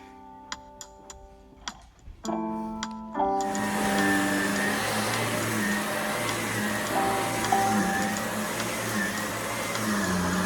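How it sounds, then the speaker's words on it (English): A few sharp ticks and clicks come first, then a corded vacuum cleaner starts up on carpet and runs as a loud, steady, close whirring drone to the end. "I absolutely love my new vacuum. I feel like it just really gets deep down in the carpets."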